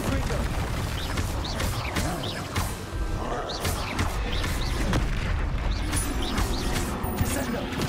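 Incendio and Confringo spell blasts in the Hogwarts Legacy video game, a dense run of booming impacts and crackling bursts over continuous game noise, with a voice speaking throughout.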